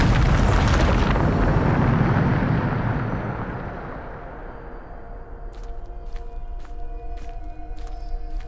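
A Bombarda spell in the Hogwarts Legacy video game erupts in one loud, close explosion, then its rumbling boom fades slowly into a quiet tail with faint ringing chimes.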